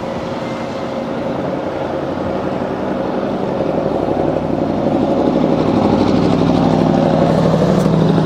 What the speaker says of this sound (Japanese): 一定回転で今ポンプ回しておりますからね